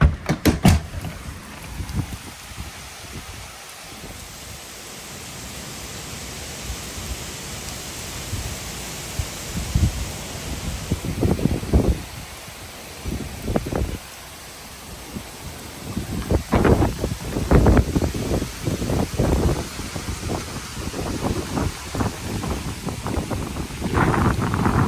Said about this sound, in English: those gusts of wind are coming from the front, coming this way